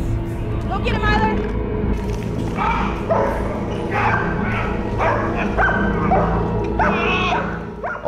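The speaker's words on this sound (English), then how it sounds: "He's a powerhouse protection dog." A powerhouse personal protection dog barks and yips in excited bursts while attacking during a bite demonstration, with people shouting and talking close by over a low steady background hum.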